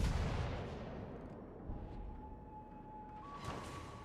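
Naval guns firing shells from the battleship Repulse in World of Warships: a heavy booming salvo at the start, then deep, rumbling blasts returning about every two seconds, loud over a constant low roar.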